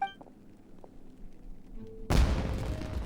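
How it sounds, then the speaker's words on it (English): A sudden fireworks-style explosion in the video game Genshin Impact, a loud close burst after some faint game tones, followed by a sustained rumbling crackle that carries on to the end. "Was that an explosion? It sounded like fireworks."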